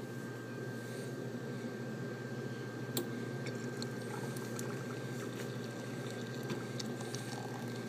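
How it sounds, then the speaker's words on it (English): Hot water poured in a steady, rushing stream with a soft, even splash that holds at a constant level for several seconds, alongside a faint steady hum, in Dubreuilville, Ontario at about minus 33°C. "So what we're going to do is put some hot water."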